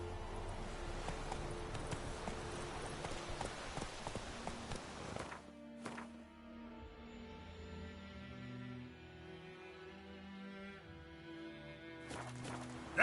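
Geralt's horse Roach walks in The Witcher 3, hooves clip-clopping steadily for the first half under dense game sound, then fading behind softer ambience with a few later hoof knocks.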